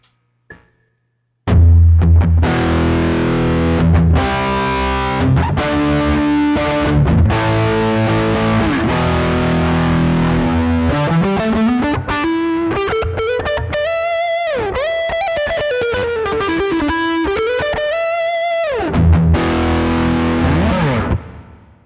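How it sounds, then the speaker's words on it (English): An electric guitar played through heavy distortion, loud chugging chords and sliding bends, following a brief burst of hiss before the playing begins. "Now we have a distortion. So as you can hear, there's already a lot of noise."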